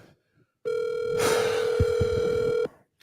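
A phone dialing, with a steady dial tone followed by a run of sharp keypad tones laid over it, loud and close.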